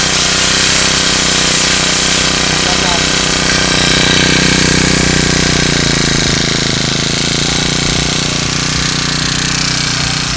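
A Honda lawn mower engine runs continuously, loud and close, with a dense rattling buzz that holds steady throughout.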